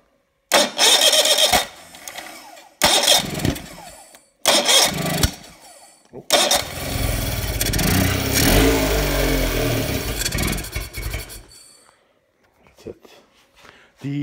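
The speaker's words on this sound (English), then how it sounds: "For starting it, I got my battery." Yamaha T9.9 two-stroke outboard motor, battery-started: several short cranking bursts separated by pauses, then the engine catches and runs loudly for several seconds before cutting off, with someone talking around it.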